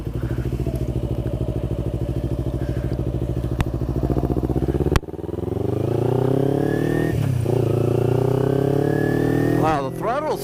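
A motorcycle ridden on a public road idles with a steady low rumble, then its engine note climbs sharply as the rider accelerates, the revs rising in a smooth sweep before easing off.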